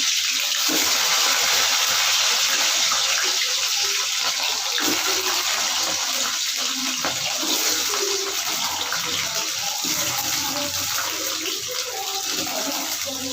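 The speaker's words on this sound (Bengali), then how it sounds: "এই গাটি কষিগুলো দিয়ে ভেজে নেব ভালো করে সাবধানে" Taro (gati kochu) pieces frying in an oil-filled pan give a steady, loud, broadband sizzle throughout with no pauses and no talking.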